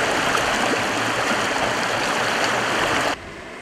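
River water runs and splashes steadily where sand is being washed for fossil remains, a loud, close, continuous rushing flow that cuts off abruptly near the end.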